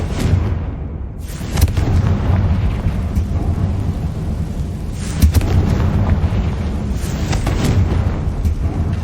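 Booming spell blasts from the Confringo fire spell in the Hogwarts Legacy video game, a continuous heavy rumbling roar with sharper bursts near the start and middle, loud and without talk.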